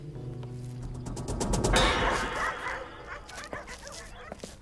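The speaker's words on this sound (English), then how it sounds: "Hunting dogs were flown in from New Zealand and specially trained." Hunting dogs on the Galápagos Islands, brought in from New Zealand and trained for culling feral animals, bark and yip in a quick series of sharp calls, moderately close, over a busy outdoor background with no speech.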